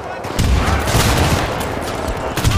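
Rapid grenade launcher fire in the shooter game Syndicate, loud dense bursts of shots and blasts running back to back, with players talking over the action.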